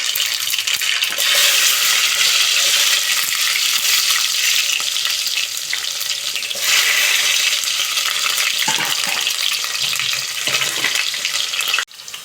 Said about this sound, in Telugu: ఎర్రగడ్డలు కాల్చినాయండి